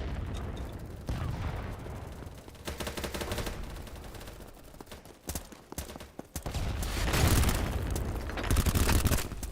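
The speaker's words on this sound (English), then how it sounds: "We just shot at an unrelated guy" Rapid bursts of gunfire from the video game Battlebits, coming in clustered volleys at moderate distance with a busy, noisy game soundscape between them.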